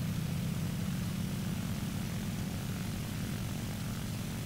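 Propeller engine of an IL-2 attack plane in War Thunder, a loud, continuous droning roar that holds steady throughout with no talk over it.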